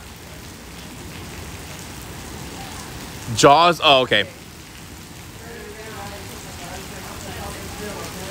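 Heavy Seattle rain roars steadily as a constant loud wash, with a person briefly speaking over it midway.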